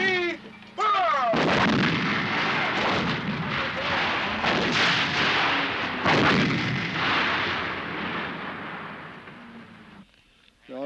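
An artillery gun fires during a 1978 NATO autumn field exercise in Germany, sending out a loud booming blast that rolls on for several seconds. Voices speak briefly around the shot.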